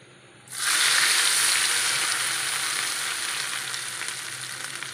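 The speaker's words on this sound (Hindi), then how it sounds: "अब हम लगाएंगे तड़का" A sudden loud sizzle as hot butter and browned garlic tempering hits sarson ka saag, then a steady hissing fry that continues without pause.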